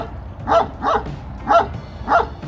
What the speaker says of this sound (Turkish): Havlayanlar genellikle dişi olanlar havlıyor.